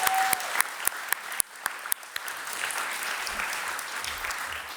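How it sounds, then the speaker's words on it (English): Conference audience applauding after an opening keynote, steady moderate clapping with a few sharper claps standing out early, heard at a middle distance in a large room. "And perhaps we can have a round of applause for Sabine's work"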